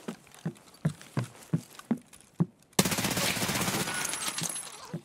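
Video-game MP7 submachine gun fire: a string of spaced single shots, then a sustained rapid automatic burst, loud and close with a dense crackling tail.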